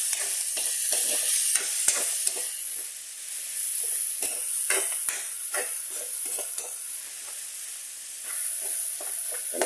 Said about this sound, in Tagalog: Bayaan muna natin matoast ng konti yung ating pork. Magmamantika na siya.